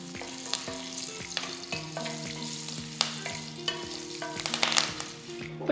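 Curry leaves drop into hot oil with asafoetida for a dal tempering, crackling and sizzling loudly and close, with sharp pops and a spoon stirring against the pan in an uneven rhythm, no voices.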